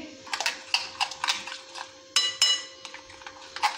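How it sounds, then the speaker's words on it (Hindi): Spices such as chili flakes, whole coriander and salt being mixed into moong dal batter in a bowl: close, irregular clinks and scrapes of a spoon against the bowl, a few sharp taps among softer stirring. "अब इसको अच्छी तरह से मिक्स कर लेंगे।"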